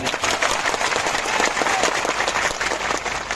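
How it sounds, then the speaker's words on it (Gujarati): A crowd at an Aam Aadmi Party public meeting gives Gopal Italia loud, dense, continuous applause that holds steady without a break. "એમના માટે જોરદાર તાળીઓ પાડી."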